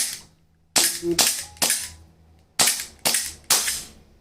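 Elite Force Glock 18C airsoft gas pistol firing six sharp, loud gas shots in an uneven rhythm, some paired closely, with quiet gaps between bursts and no talking.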